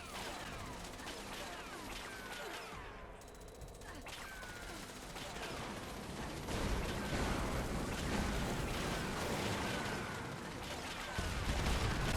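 Rifle fire in a video game, dense overlapping shots and bursts running continuously over a steady loud game backdrop, with someone talking throughout.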